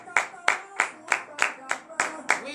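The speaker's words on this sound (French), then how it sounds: "je vous demande d'applaudir très très fort notre Dieu ce matin" A church congregation at a Monday morning prayer service in Benin claps loudly in a steady unison rhythm, eight sharp claps about a third of a second apart, close and alone with no talk.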